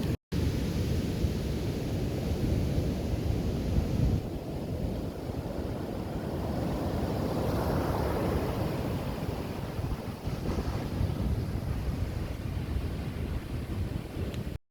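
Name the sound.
ocean waves breaking at Playa Zicatela beach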